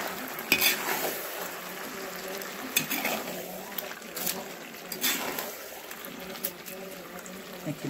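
Chicken meat stirred and fried in a pan with no added spices, soft steady sizzling broken by scraping stir strokes and small clatters, fairly quiet and close.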